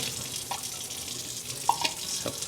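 Tap water running steadily as a part from a handheld cordless pool vacuum is rinsed under it, a soft continuous hiss with a few faint drips and splashes.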